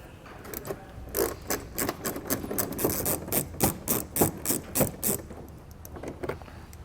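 A 5.5 millimeter socket ratchets repeatedly while removing mud flap fasteners on a 2019 Ford F-350 Super Duty, giving a quick run of close, crisp clicking bursts in a steady rhythm with no talking.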